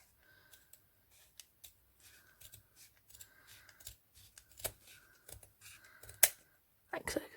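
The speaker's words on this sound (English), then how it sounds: "And then I cut at a curve," Fabric scissors snip through 3-inch ribbon along a curve in a run of short, crisp cuts, close and quiet, with soft handling rustles between the snips.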